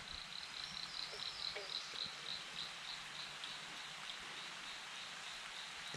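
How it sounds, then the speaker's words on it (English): Steady rain patters outdoors, a soft continuous hiss with scattered drops, joined by a faint high insect-like chirping in the background. "It's raining. We're getting wet already."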